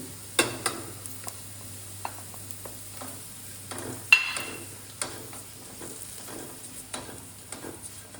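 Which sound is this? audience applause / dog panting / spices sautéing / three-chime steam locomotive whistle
spices sautéing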